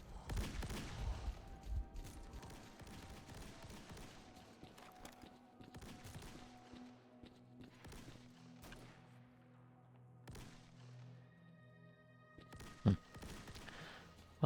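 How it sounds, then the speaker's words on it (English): Bursts of gunfire in the video game Fate of the Zone, rapid volleys and scattered single shots, with a sharp loud crack near the end. "now that I hear more gunfire"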